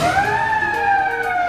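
Siren on an overhead crane sounding a loud, steady wailing warning tone that rises slightly and then falls, with strong harmonics and no voices present.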